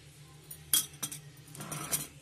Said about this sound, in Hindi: ये देखिए अब इसे छुरी से थोड़ा अंदर कर देंगे ताकि सब मसाले में मिक्स हो जाए।